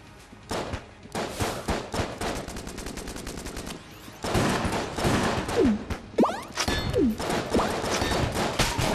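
Rapid gunfire from a weapon in the Enter the Gungeon video game, bursts of fast, dense shots in quick succession with brief pauses, plus whistling projectile sweeps and impacts, fairly loud throughout.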